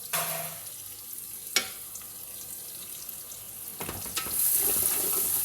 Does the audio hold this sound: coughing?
no